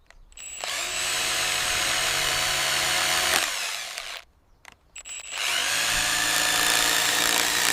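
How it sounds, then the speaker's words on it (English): A power drill bores into a freshly cut oak log for shiitake spawn, whining steadily for several seconds, cutting out briefly, then starting again loud and close, with no voices. "Inoculating a single shiitake log requires drilling between 50 and 100 holes"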